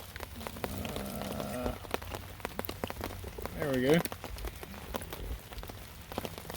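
Rain patters steadily on a military surplus TCOP combat tent covered with two ponchos, a dense close drumming of drops with a brief spoken remark over it.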